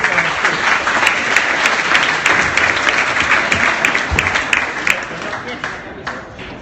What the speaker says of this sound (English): So big round of applause for that, please.